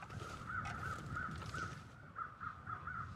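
Crows in the survival video game The Long Dark caw in a steady series of harsh, evenly spaced calls, about eight in all, set against a quiet wind-like background.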